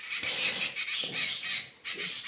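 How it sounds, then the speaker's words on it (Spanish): Birds call outdoors in loud, repeated squawking and chirping bursts, several overlapping phrases close by, with no one speaking. "los pajaritos que nos están cantando"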